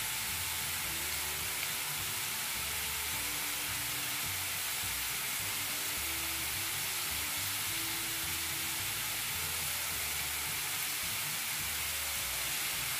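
Oxtail tomato sauce cooking in a pot, producing a steady, faint hiss and gentle sizzle that continues evenly throughout without voices.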